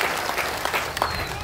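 A crowd at a political rally in Bihar claps loudly and continuously, a dense, sustained wash of applause with no pauses.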